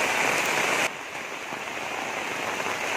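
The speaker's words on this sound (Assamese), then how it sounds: "এসপ্তাহ ধৰি বৰষুণ হৈ আছে।" Rain falls steadily on surfaces during a week of monsoon downpours in a flooded village, a dense close hiss that drops slightly in level partway through and then continues evenly.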